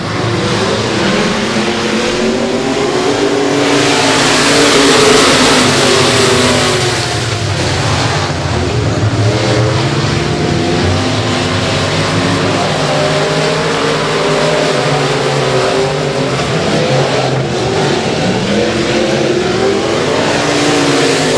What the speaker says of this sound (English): A pair of IRP chassis run 1 and 2 down the back straightaway